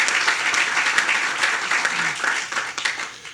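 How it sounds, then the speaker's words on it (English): An audience claps steadily through a recognition segment at a school or college event, dense applause filling the room with a few brief voices underneath. "Let's applaud their efforts as well."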